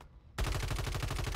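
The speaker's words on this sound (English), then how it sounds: "It's a two-shot pistol, though." Gunfire in Warzone 3 from a two-shot pistol, starting abruptly after a near-silent moment and continuing as a dense, loud run of rapid, evenly spaced shots.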